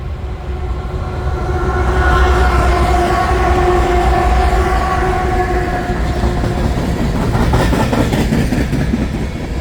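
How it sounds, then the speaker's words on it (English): A BNSF grain train passes through a Montana town without stopping, its horn sounding in sustained tones over a heavy, close rumble and clacking wheels, loud and continuous. "Burlington Northern Santa Fe. This train's booking. I don't think he's going to stop. Coming right through town."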